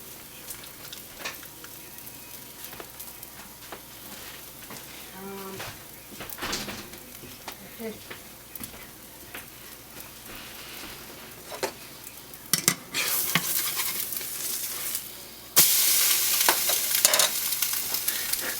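French toast frying in butter in a pan, a steady low sizzle with occasional stirring and utensil clatter, growing louder and brighter toward the end, with no talk over it.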